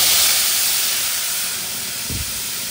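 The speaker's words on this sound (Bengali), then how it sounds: "তেল গরম হয়ে গেছে, এখন মশলাটা দিই।" Spice paste hitting hot oil for a Bengali stuffed pointed gourd curry, a loud continuous frying hiss that fades slightly over the clip, with a brief low knock near the end.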